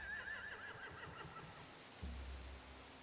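Horses whinny in The Walking Dead: The Final Season video game. A shrill, wavering neigh opens the clip, followed by softer snorting and a low rumble over a constant ambient hiss.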